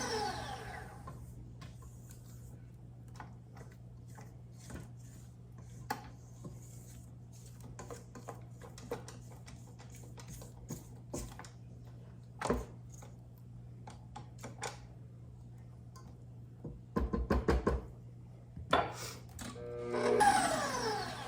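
Fudge mixture mixed in a bowl, heard as faint, sporadic scraping and tapping over a steady low hum, with a few louder clustered clatters near the end.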